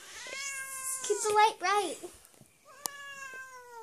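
A black cat meows clearly at close range, a few drawn-out, wavering meows, with a person talking briefly between them indoors.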